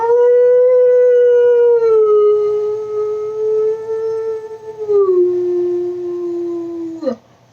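A human voice imitates a wolf howl: one long, loud, sustained tonal wail that sags gradually in pitch, drops a step near the end and cuts off abruptly, heard close and alone.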